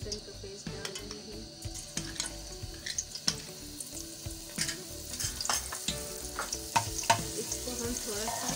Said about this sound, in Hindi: घी गर्म हो चुका है, अब हम इसमें एक चम्मच लहसुन का पेस्ट डाल रहे हैं।